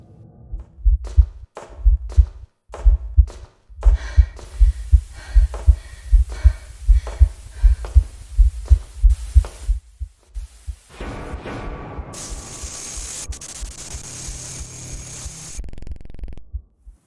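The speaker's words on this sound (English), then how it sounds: "constant heartbeat throughout the game until you get caught. The closer the player is to Slender, the quicker the heartbeat gets." A deep, thumping heartbeat from the Slender video game pulses steadily and loud, about one beat every half second, then gives way to a static hiss and hum.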